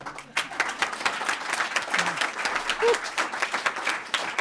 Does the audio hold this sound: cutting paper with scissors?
no